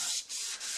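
A Bosch 1250 DEVS dual action sander hums with a steady, bright whoosh as it does finish sanding, close and fairly loud, dipping briefly twice.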